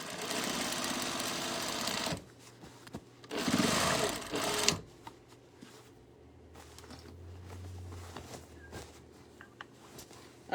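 A sewing machine stitches seams on a tote bag in a live sewing class, running in two loud bursts with a short pause between, then stopping and leaving quiet room noise with small handling sounds.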